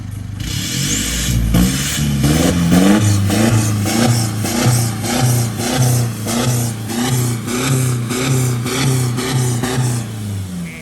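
A car engine with an aftermarket exhaust pipe revs again and again in short, loud bursts. Each blip rises and falls in a rhythmic pattern, close and strong, with no voices.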